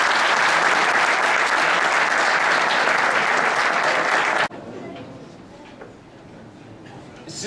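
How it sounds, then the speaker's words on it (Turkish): Loud, sustained audience applause at a panel event, a thick wash of clapping that cuts off abruptly after about four and a half seconds, followed by quiet room tone with faint murmuring. "alkışlarımız Ertuğ Bey'e geliyor"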